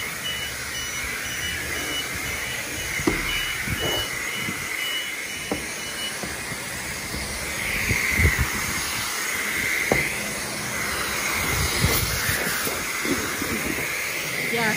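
Steady high-pressure hiss of a manual car wash wand spraying rinse water over a car at a self-serve wash bay in Flagler Beach, Florida, continuous and fairly close, with occasional knocks and bumps and no talking.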